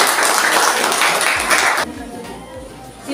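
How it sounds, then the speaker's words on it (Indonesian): Dense applause from a classroom of students clapping for a presenting group, loud and close for almost two seconds before cutting off, followed by a few scattered claps and low murmuring voices. "Tepuk tangan untuk kelompok"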